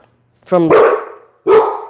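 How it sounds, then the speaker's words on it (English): A dog lets out two loud, close barks, the first a drawn-out yelping bark and the second short and sharp, with a brief pause between them indoors during a live stream. "Did you really just bark in the middle of my live?"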